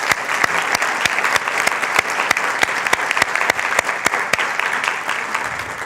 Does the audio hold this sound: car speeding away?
no